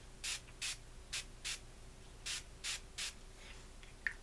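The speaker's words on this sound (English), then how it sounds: "It's kind of a heavy spray" Organic makeup setting spray misted onto a face in seven short, crisp pump bursts, each a quick airy hiss, loud and close, with brief quiet gaps between them and no talking.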